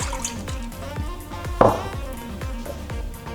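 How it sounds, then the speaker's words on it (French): Milk pours into a stand mixer bowl fitted with a dough hook while pretzel dough is being made, a steady liquid trickle with soft dripping taps, close and fairly quiet. "alors dans le bol de mon robot muni du crochet, je vais mettre le lait,"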